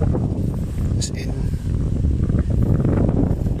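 Strong typhoon wind at low tide on the coast at Tagkawayan, a steady loud rushing roar with buffeting gusts against the microphone throughout, and a voice talking beneath it.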